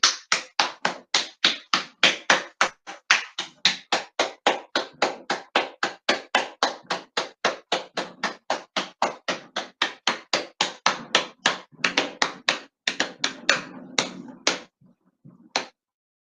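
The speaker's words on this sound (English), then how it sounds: "Oh yeah, sorry, we're clapping. 30 seconds of clapping." Close, brisk clapping by a small group keeps a quick regular beat for about fifteen seconds, then thins to a few scattered claps and stops.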